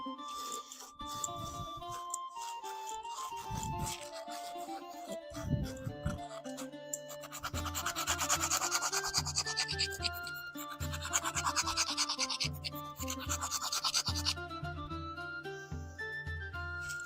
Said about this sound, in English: it works so well for getting inside circle things, like sanding the inside of tubes